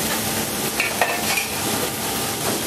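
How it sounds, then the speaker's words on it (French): Squid sizzling in oil in a smoking-hot frying pan, a loud, dense, continuous hiss and crackle with a few light clinks and stirring sounds, close by and without talking. "Et dans la poêle fumante, on met le soupion."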